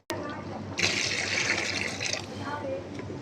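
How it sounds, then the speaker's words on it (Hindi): Water poured into a pot of beef pulao being cooked at home, a steady broadband splashing rush that starts partway in and runs for over a second before settling to a lower, continuous simmering hiss. "अब इसमें चावलों का पानी शामिल करेंगे।"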